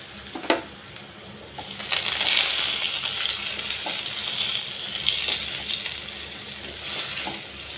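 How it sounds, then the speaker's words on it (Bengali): Eggplant slices fry in a pan of hot oil with a steady, close sizzle that rises after a sharp clink at the start, with faint scrapes now and then and no talking. "সেটা বেগুনটা এখন ভাজা শুরু করে দিয়েছি।"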